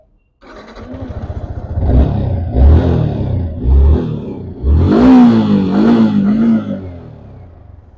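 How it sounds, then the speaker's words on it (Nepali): A motorcycle engine idles, then is revved in several short, loud bursts, ending with a longer climbing rev before settling back to a steady idle. "अब बाइकको साउन्ड सुन्नुहोस् कस्तो छ"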